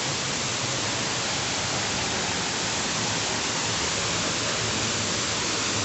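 Steady, dense broadband roar of falling water at Krangsuri waterfall, a continuous hiss and rumble with no breaks and no voices.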